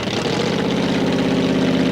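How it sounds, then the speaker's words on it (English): A Chevy 396 engine in a mini tractor-pulling machine idles at a European tractor pulling event, a loud, steady, deep rumble with a fast, even pulse and no pauses. "This is Otto, a Chevy 396 with Anna Svensson from Kalmar."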